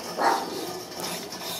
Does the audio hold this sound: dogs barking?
yes